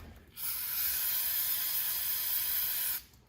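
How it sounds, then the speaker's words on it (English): Brake cleaner sprayed from an aerosol can around a vehicle brake fluid fitting: one loud, steady, close hiss lasting about two and a half seconds, starting and stopping abruptly. "I use brake clean. Kind of wash it off on there a little bit around it."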